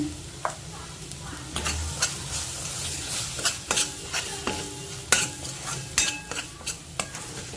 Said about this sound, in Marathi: मसाला आपला छान परतला आहे आता ग्रेव्ही तयार आहे